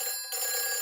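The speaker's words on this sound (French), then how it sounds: "Un téléphone!" A cartoon telephone bell ringing with a bright, steady electronic trill, loud and alone, with a brief dip partway through before the ring continues.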